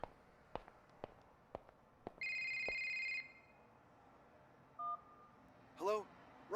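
A phone in The Signifier video game is dialed and then rings: several soft clicks, a sustained dial tone, then rising warbling ring tones near the end, heard without speech.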